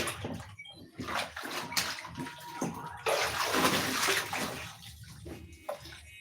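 Dirty shoes scrubbed and rinsed under running water, a loud close rush and slosh with bursts of splashing and rubbing that swell and ease, no one talking.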